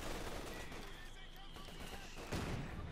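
Machine gun fire from Company of Heroes 2, a World War II strategy video game, crackles as dense, continuous battle noise with a sharper burst near the end, over a steady mix of game effects.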